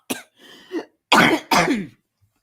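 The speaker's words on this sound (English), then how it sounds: "I keep coughing" A person coughs a few times, then clears their throat with two harsh, rasping bursts, close and fairly loud, with short pauses between.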